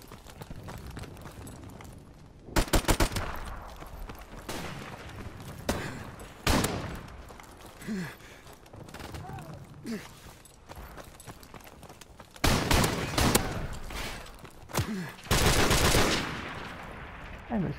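Gunfire in a video game comes as scattered bursts of rapid shots, loud clusters separated by quieter stretches of ambient game sound, with some running and hoof-like clatter between volleys.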